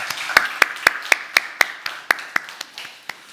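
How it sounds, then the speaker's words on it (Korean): Hands clap at a church Sunday service, about a dozen crisp, evenly spaced claps in a steady rhythm, close and clear, fading slightly toward the end with no talk. "우리 다시 한번 박수 부탁드리겠습니다"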